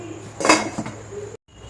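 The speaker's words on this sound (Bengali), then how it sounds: "জলটা ফুটে গেছে, ঢাকনা তুলে নিচ্ছি।" A lid is lifted off a pot of boiling water while cooking rice for chicken biryani. A short, close metallic clatter sounds, then the quiet bubbling background.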